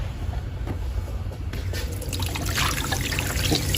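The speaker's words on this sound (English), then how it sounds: "So you can see we're making it rain here on the parking lot" Water sprayed from a rainmaker onto the parking lot of a watershed model, a steady splashing patter with trickling runoff that grows a little louder partway through, no voices.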